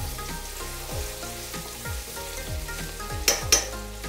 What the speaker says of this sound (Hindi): प्याज और लहसुन को भुनेंगे 2-3 मिनट।